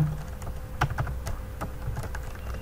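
Quick keystrokes on a computer keyboard typing into an Excel spreadsheet, a close, soft run of uneven clicks with a few sharper taps, no talking.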